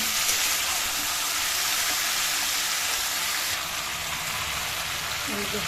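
Food fries lightly in a pan with a steady soft sizzle and crackle throughout, heard close up and continuous, with a few faint background clicks.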